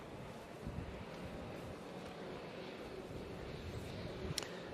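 Steady gusty wind buffeting an outdoor microphone on the south coast, a broad continuous rumble and hiss with slight surges, plus a brief faint chirp near the end.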